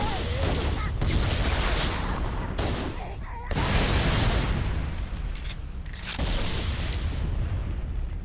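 Explosions and bursts of gunfire fill a Halo game session set to make grunts explode, forming a loud, dense barrage of booms and crackling blasts with brief lulls between them.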